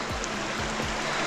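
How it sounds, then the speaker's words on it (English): Water from a waterfall rushes down a rocky gorge, a steady broadband roar close by that stays even throughout with no voices. "the water from the waterfall flows down the gorge, forming a small river"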